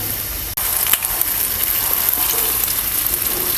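Semolina-coated fish pieces frying in hot oil produce a loud, dense sizzle that surges after a brief drop at the start, with scattered crackles and spits running throughout.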